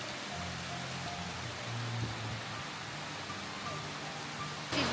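Rain falls steadily during a drive into the Vietnamese countryside toward Pu Luong, a constant hiss of drops over the hum of the moving vehicle, even and unbroken throughout.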